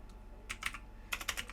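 Quick bursts of keystrokes on a computer keyboard while coding C# JSON handling, two short clusters of clicks, close and fairly soft with no talking.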